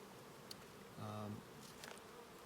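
A single honey bee buzzes briefly and faintly close by while a beehive frame is lifted out for inspection, a short hum rising over quiet surroundings.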